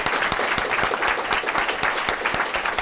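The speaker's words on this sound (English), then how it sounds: "Can we applaud these guys?" A conference audience at a policy forum on energy and water breaks into sustained applause, a dense, even roar of many hands with crisp individual claps audible throughout.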